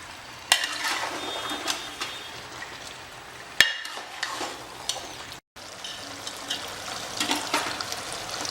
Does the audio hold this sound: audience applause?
no